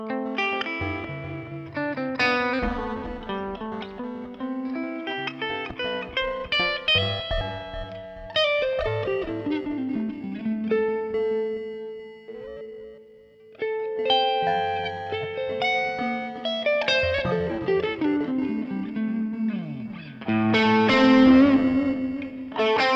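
Lo-fi mode on a Donner Echo Square delay pedal: an effected guitar plays continuous melodic lines with smeared, degraded repeats and a slight distorted, chorused texture, loud and steady throughout with no talking.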